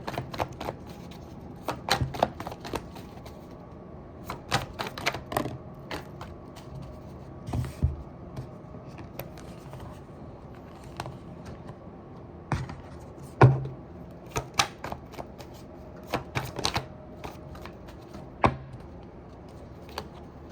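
Tarot cards being shuffled and handled, giving a run of quick crisp riffling bursts and taps that come and go in clusters at close range, with no talk over them.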